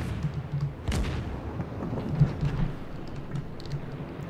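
In the World of Warships video game, a Wickes-class destroyer comes under gunfire. Distant booming shots and rumbling blasts roll over a constant low background, with one stronger thud early on.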